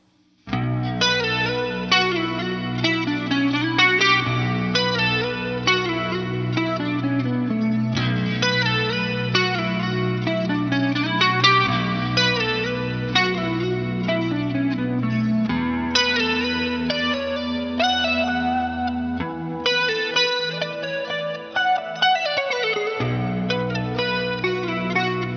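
A NAOMI Classic Chorus analog guitar pedal set to full depth shimmers over a played electric guitar, with sustained chords and picked notes swirling continuously and loudly for the whole stretch, no voices.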